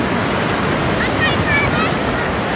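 Strong floodwater rushes through a creek in Don Marcelino, a steady, loud broadband roar with no breaks, close and continuous.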